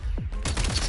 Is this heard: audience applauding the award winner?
no